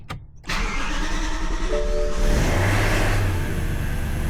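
A BMW M3 E92 with its stock exhaust cranks over and fires on a cold start, a brief starter whir, then a loud flare of revs settling into a steady, rumbling high idle close by.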